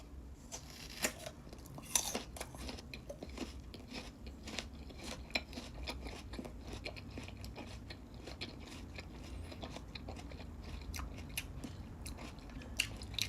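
Someone bites into a hard, crunchy fruit during a mukbang tasting and keeps chewing, giving faint, close crunching and mastication sounds.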